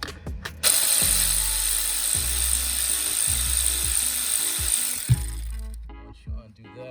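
A wrench undoes a 10mm bolt holding a car's ECU during a GA16 to SR20 engine swap, giving repeated short ratcheting clicks and metallic knocks over a steady background hiss, close by.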